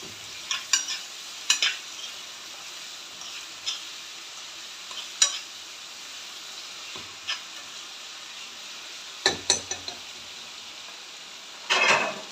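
Chopped potatoes roasting in a pan for pasta make a constant soft sizzle close by. Scattered sharp taps and scrapes of stirring are heard throughout, with a louder clatter at the end.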